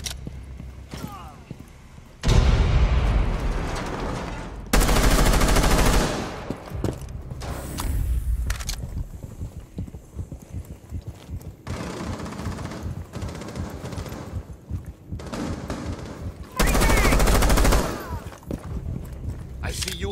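Loud bursts of automatic gunfire in Rainbow Six Siege erupt in several separate volleys, with quieter footsteps and movement between them and a voice talking at times.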